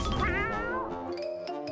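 A cat gives a clear, drawn-out meow that rises and falls, followed by a softer, wavering second cry, close by with no talking.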